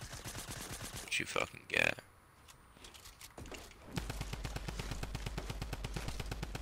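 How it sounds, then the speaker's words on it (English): Minigun fire in the video game Fortnite: a fast, continuous rattle of rapid shots runs steadily through the final seconds, preceded by a few louder bursts, with someone talking over the earlier part. "I just got beamed with a minigun"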